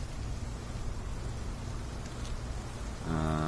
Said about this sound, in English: That's really raining.